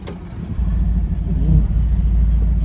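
Dodge Challenger T/A 340 engine revving, a deep, loud, steady rumble that rises slightly midway, close by with no talk.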